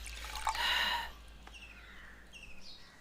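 Liquid is poured into a container in a short, bright gurgling stream lasting about half a second, followed by faint trickles and quiet background noise, with no speech.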